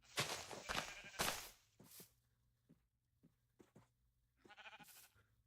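Minecraft sheep bleat in short, wavering cries, several in quick succession at the start and another near the end, with small steps and taps between them at a quiet level.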